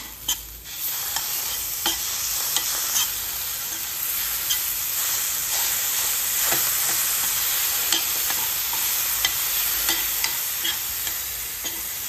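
A spoonful of cheese spread mixture worked around a frying pan, with a continuous sizzling hiss and frequent light scrapes of the spoon on the pan's surface, close up and steady throughout, with no voices.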